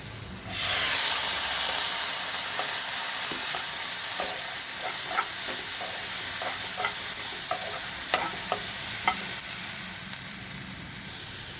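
Green chilies frying in hot oil give a loud, steady hissing sizzle that starts abruptly as they hit the pan, with faint crackles and pops scattered throughout.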